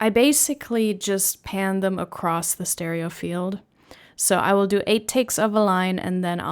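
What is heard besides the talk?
None of the usual background noises is heard.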